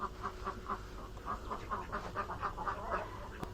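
Ducks quack repeatedly nearby in a lively, uneven series of short nasal calls, with a faint background hum underneath.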